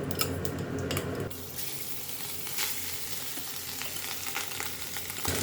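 Rice poured into a pan with cumin for jeera rice starts with a loud burst of sizzling that settles into a steady, softer frying hiss with scattered crackles.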